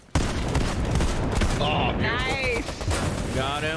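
Sniper rifle fire in an online shooter game cracks out as a sharp, loud shot near the start, followed by steady game noise with chirpy effects while players talk over it.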